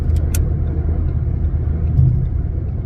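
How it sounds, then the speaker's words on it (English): A car drives along a road, a steady low engine and tyre rumble heard from inside the cabin, continuous and fairly loud with no talk over it. "Get around the slow driving car."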